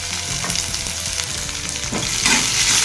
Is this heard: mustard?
yes